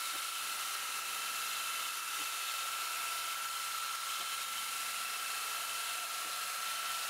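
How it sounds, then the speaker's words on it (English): Spot drill used as a milling cutter machining a 3D-printed Minecraft Steve model, giving a continuous steady high-pitched whine with a constant hiss, faint and unchanging throughout. "That spot drill has really got its work cut out on this project."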